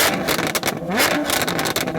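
A Porsche GT3's exhaust is revved hard in short, close, loud bursts during an exhaust sound test, with rising and falling engine pitch.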